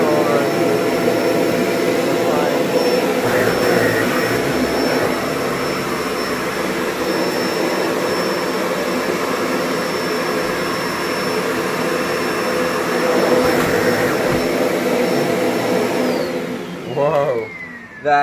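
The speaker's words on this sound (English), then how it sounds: "We're going to see how well this machine performs at cleaning this rug." A Kenmore Intuition vacuum cleaner runs steadily on a rug, a loud continuous motor whine that holds for most of the stretch before winding down at the end, with a voice talking faintly underneath.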